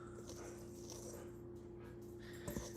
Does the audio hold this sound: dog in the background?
yes